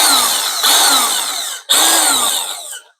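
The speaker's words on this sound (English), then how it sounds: "So while you're drilling, you got to push and hold in." Ryobi 18V cordless drill revving loudly up close in two long bursts, a high whining motor with a brief stop between them, winding down at the end.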